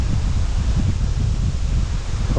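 Hot gusting wind buffets the microphone on a riverbank campsite during a rafting trip on the Kazyr River near Teba, Russia, a loud steady low roar with rustling and no talking.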